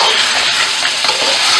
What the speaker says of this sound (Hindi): अब मैं इसे चम्मच से मैश कर दूँगी अच्छे से।